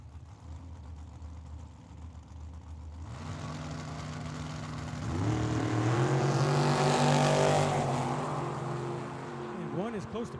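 Drag racing cars including a Camaro at Tucson Dragway, engines idling low and then revving into a loud, rising roar that swells and fades as they launch, with crowd and track ambience.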